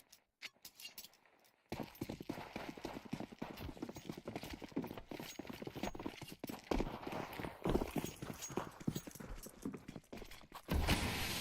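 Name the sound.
horses in a video game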